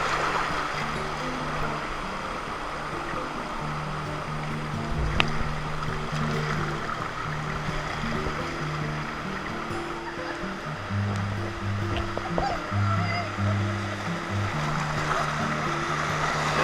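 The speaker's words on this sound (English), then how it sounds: "The river certainly picks up pace once you come through something like that." River rapids rush past a boat on a North Queensland river, filling the scene with a loud, continuous wash of turbulent water and a steady low hum beneath it.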